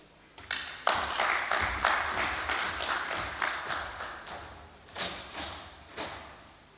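Audience applause rises at a conference after a speaker's remarks, a steady wash of many hands clapping with a few louder claps, fading midway and then picking up briefly again.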